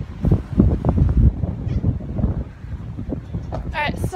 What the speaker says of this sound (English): So it's probably all you can hear is just the wind.